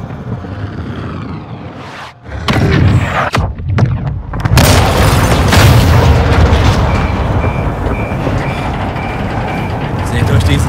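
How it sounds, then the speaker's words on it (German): A missile strike in the Call of Duty Modern Warfare 2 story campaign: deep booming blasts burst loudly after a short lull, followed by a long rumbling roar with aircraft-like droning and voices speaking over it. "An alle! Achtung, gleich knallt es! Rakete abgefeuert."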